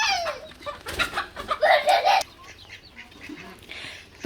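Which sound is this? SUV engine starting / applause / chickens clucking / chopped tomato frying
chickens clucking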